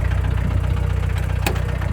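A reconditioned 1.9 turbo diesel engine ticks over at idle, close and loud, with a steady low throbbing rhythm and a brief sharp click near the end.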